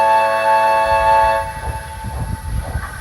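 A passing train sounds a long steady horn over rumbling carriages, then the tone drops away and leaves the rolling rhythmic clatter of wheels on track, loud and close, with no voices.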